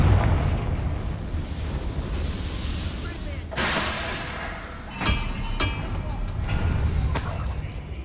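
A Confringo fire spell blasting in Hogwarts Legacy, with sharp explosive bursts and booms over rumbling game noise and background music, while someone speaks over it.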